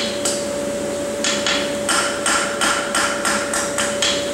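A farrier hammering the heel of a plain-stamped horseshoe on an anvil: a steady run of about ten sharp, ringing metallic blows, close and loud, with a constant hum in the background and no talking.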